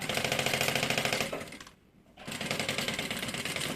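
Close, rapid machine stitching runs up the edge of a pocket on a changing pad that converts into a bag, pausing briefly midway and then continuing at a brisk, even rhythm with no voices.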